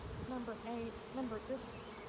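Honey bees buzzing in a steady, faint, hovering drone during a hive inspection, with no talk.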